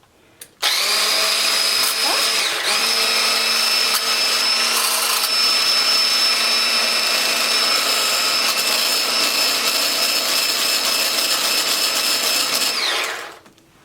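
A Caynel 500W hand blender whipping, its motor kicking in abruptly and holding a loud, steady high-pitched whine for over twelve seconds before spinning down at the end.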